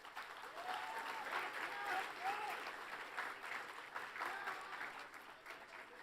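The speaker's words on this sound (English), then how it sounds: "give yourselves a round of applause for being here" Attendees at the Long Island Media Arts Show keynote and awards ceremony applaud themselves, a faint, distant-sounding spread of clapping with voices audible underneath.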